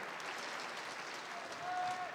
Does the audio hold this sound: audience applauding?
yes